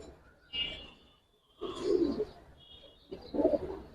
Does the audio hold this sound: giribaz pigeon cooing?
yes